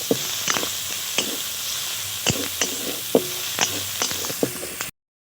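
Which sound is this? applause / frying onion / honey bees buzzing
frying onion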